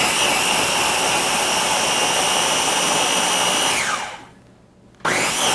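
A Ninja blender pulverizing habanero seeds roars loudly at high speed, winds down and cuts out briefly, then starts up again.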